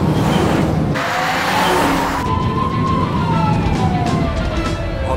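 A police car siren wails as it closes in on a moving car during a chase, its pitch sliding up and down over steady road and engine noise, fairly loud throughout.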